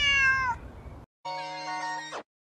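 A cat meows twice nearby, a first rising-falling meow followed after a brief silence by a longer, steadier one, loud and clear with no other sounds.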